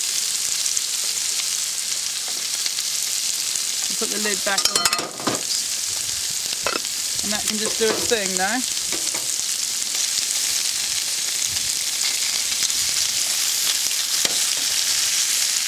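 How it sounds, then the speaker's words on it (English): Steady, loud sizzling of food frying in a pan throughout, with a brief spoken remark in the middle over the hiss. "I'm going to leave those frying for a few minutes longer"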